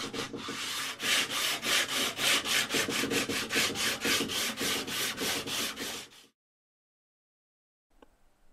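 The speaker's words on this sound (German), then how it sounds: "Sollten trotz aller Vorsichtsmaßnahmen einige Farbpartikel auf dem Holz vorhanden sein, so schleift man diese ohne weiteres jetzt herunter." Rapid back-and-forth sanding rasps across wood in a steady rhythm for several seconds, removing paint particles, then stops abruptly, followed by silence and a faint tap.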